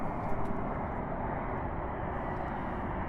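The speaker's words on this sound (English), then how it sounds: "The airplanes." An airplane passes overhead, a steady broad engine roar that stays loud and even throughout with no talk.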